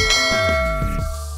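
A notification bell sound effect rings out once with a bright metallic strike and a ringing tone that fades over about a second, loud and alone.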